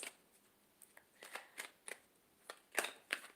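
Tarot cards are shuffled by hand: soft, quiet riffling with light, irregular taps and flicks, up close and without any talking.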